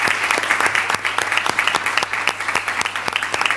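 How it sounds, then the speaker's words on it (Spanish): Dense, lively applause fills a hall at a youth council plenary session in Mogán, honoring the IES de Arguineguín school, with sharp individual claps standing out in the continuous clapping. "debemos darle un aplauso aquí al IES de Arguineguín."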